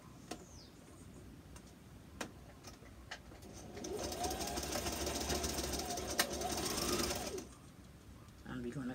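A sewing machine stitches elastic onto a fabric face mask in a steady burst of a few seconds, with scattered ticks and clicks before and after and a voice talking.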